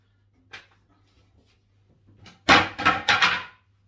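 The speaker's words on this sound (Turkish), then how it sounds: "Evet çekmeceyi kırdık aynı anda." A wooden kitchen drawer breaks with a loud cluster of cracking, clattering impacts near the end, after a few faint knocks and a low steady hum in a quiet room.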